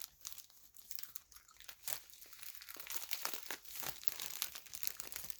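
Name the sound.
crinkly plastic packaging being handled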